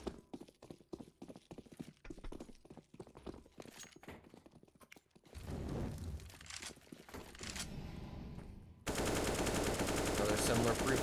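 AK rifle gunfire in a competitive esports shooter game, rapid clattering shots heard up close, followed by a louder dense stretch of continuous game noise.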